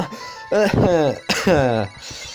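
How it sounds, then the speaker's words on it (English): Two loud, harsh coughs close to the microphone, each a strained, rasping burst separated by a short pause. "Had a bit of a cough there."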